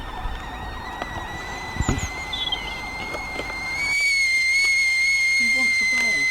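A man whistles outdoors on an allotment to call his dog Rusty: steady, sustained high whistle tones that swell louder and more continuous in the second half, over faint background rustle.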